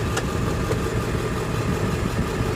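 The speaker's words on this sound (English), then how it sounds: "So I pushed it in and you can hear the engine. RPMs increase" Ambulance engine running steadily with the idle control pushed in, a continuous low rumbling drone heard close and alone with no clear rise in pitch.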